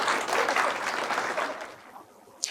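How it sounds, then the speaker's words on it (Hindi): Loud audience clapping for the poet Prashant at a Hindi comic poetry gathering, strongest at the start and thinning out over the second half to a few scattered claps. "बस जोरदार ताली हमारे प्रशांत जी के लिए हो जाए।"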